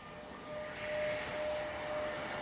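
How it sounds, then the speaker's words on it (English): An E-flite Airbus A320 Neo RC model jet flies overhead with a steady whooshing electric ducted-fan whine that swells and fades slightly as it passes at moderate distance, with no talking. "that's a good flying plane right there"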